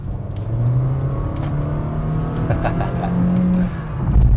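A Honda WR-V with a 1500 cc engine and CVT revs while accelerating, giving a sustained droning engine whine that rises steadily in pitch and swells toward the end, heard close from inside the car.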